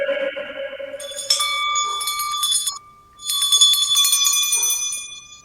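A bright notification bell sound effect rings out in two clear metallic chimes with long ringing overtones, loud and isolated, separated by a short gap.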